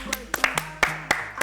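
A handful of scattered, sharp hand claps from a small group at a games session, loose and irregular, with people talking between them.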